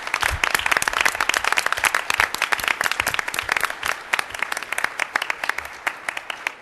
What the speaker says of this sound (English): if you could all please join me in giving them a round of applause and thanking them for their tireless effort